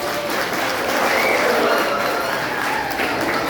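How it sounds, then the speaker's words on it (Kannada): Audience at the Jhenkara beautician makeup course programme opening in Bangalore bursts into loud, sustained applause, dense clapping continuing steadily throughout with a few voices in the crowd. "ನಿಮ್ಮ ಚಪ್ಪಾಳೆ ಹಾಗೂ ನಿಮ್ಮ ಪ್ರೋತ್ಸಾಹದೊಂದಿಗೆ ಈ ಪ್ರೋಗ್ರಾಮ್ ಶುಭಾರಂಭ ಆಗಬೇಕು"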